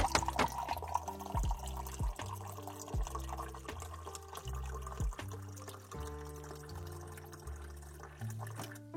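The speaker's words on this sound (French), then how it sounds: "J'ajoute de l'eau." Water is poured into a glass holding eleven G FUEL drink powders, a close, continuous gurgling pour with rising pitch as the glass fills, accompanied by splashes and drips.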